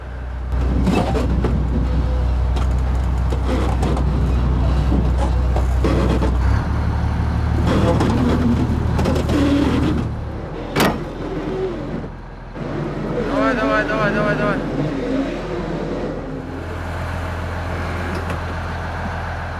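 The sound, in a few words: bulldozer being loaded onto a truck on Siberian ice road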